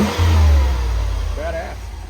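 A warm Guanci SSJ prototype car engine revs up in a short burst, then settles back to a lower rumble with brief rising whines.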